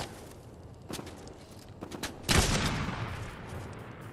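Fortnite gunfire aimed at the player, heard as several sharp shots spread across a few seconds, with a louder, denser burst of fire midway that trails off, no voices over it.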